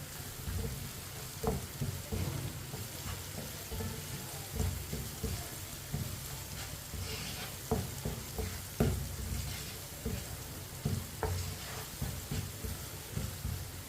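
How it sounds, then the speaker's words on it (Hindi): Ground red chili, turmeric and coriander powder fry in oil in a pan over a low flame for a white chana curry, making a steady close sizzle with repeated scraping stir strokes throughout. "मसालों को 1 मिनट के लिए पका लेंगे।"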